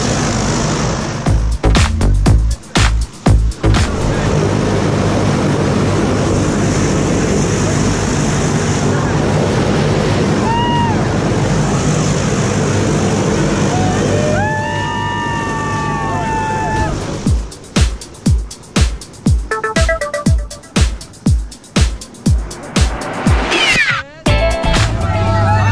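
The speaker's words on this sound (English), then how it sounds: "Here we are in a plane." Loud, steady roar of an airplane engine and rushing wind inside a plane before a tandem skydive, a constant close drone with rattling thumps and clicks toward the end and brief whistling tones in the middle.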